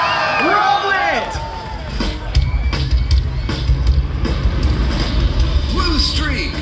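An amusement park crowd at Cedar Point cheers, whoops and yells all together, sustained and fairly loud, with scattered high shrieks over a dense babble of voices.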